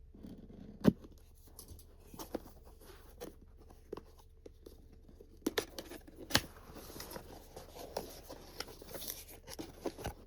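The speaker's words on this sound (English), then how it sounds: "Which will just be a pair of scissors." Scissors snip and crinkle through the packaging of a Nintendo Switch 2 game and Pro Controller box, making scattered faint clicks and rustles with a few sharper cuts and no talking.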